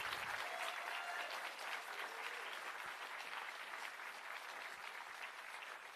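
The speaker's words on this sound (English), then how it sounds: "let's get another huge round of applause for all of the finalists and the winners tonight in this evening's Emerald Awards" Sustained applause from an audience at an environmental excellence awards ceremony, a dense, even wash of clapping throughout, fairly distant, with no talk over it.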